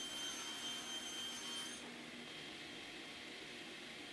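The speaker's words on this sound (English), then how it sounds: "I start the project by first ripping down all of my plywood that I will need for the four cabinets" A saw rips Baltic birch plywood sheets for shop cabinets, a steady dense whine and rushing roar that holds throughout, its upper tone dropping slightly partway as the cut continues, with no talking.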